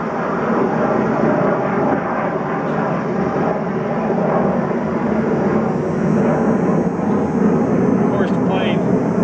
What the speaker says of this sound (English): Of course, the plane.